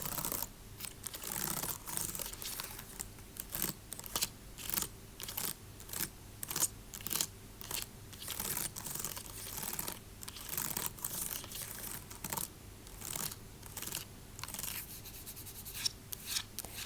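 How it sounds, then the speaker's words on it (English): Fingernails lightly and rapidly scratching and tapping over plastic laptop keys, a steady dry clicking texture with brief pauses, close and fairly quiet. "I will be scratching on my laptop keyboard"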